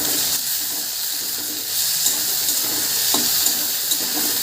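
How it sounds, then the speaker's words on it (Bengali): Onion and tomato fry in a pan for a village-style Bangladeshi dish, a steady close sizzle and hiss with a few stirring clinks, no talking. "পেঁয়াজ আর টমেটোটা কিন্তু একটু ভেজে নিলাম"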